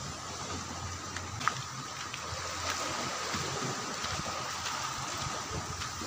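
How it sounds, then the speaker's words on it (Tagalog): Rough sea waves on a province shoreline, a faint steady wash of surf and wind with small splashes, distant and continuous without talk. "Tignan nyo guys, oh, kung gaano kaalon yung ano, dagat ngayon."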